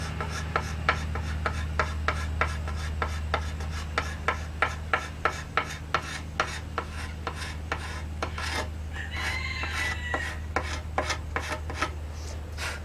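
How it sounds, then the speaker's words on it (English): A wooden bow being carved to remove a leftover strip of bark, with close, rhythmic rasping strokes repeating at a steady pace over a low constant hum, the strokes loosening toward the end. "I'm just going to carve that off."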